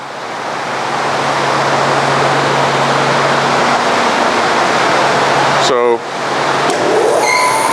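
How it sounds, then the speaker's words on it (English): A dust collection system runs in a woodworking shop beside a bandsaw, a loud, steady broadband rush that builds up and holds, with a brief voice and a short dip near the end. "Shane's got the dust collection system going for us there"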